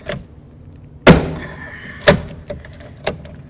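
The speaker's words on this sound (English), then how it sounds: "I'm just gonna throw a rivet right in here" A rivet is set into a 1988-2002 GMC Sierra 1500 truck door panel, giving a loud metallic snap followed by several sharper clicks and thunks, close and alone.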